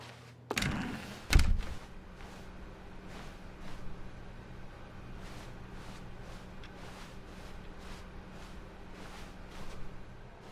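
In The Stanley Parable Ultra Deluxe, an office door swings open with two solid thunks in quick succession, followed by a quiet, empty room tone.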